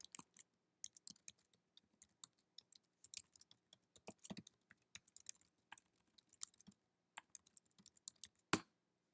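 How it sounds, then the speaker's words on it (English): Computer keyboard being typed on in irregular bursts of crisp, close key clicks with short pauses, quiet overall and ending on one sharper keystroke. "So we can do this by typing the following command."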